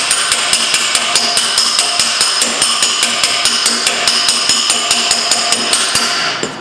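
A hammer and dolly tap out a car body dent in quick, regular metallic strikes, each a loud, close ringing ding repeated steadily, roughly four per second, with no talking.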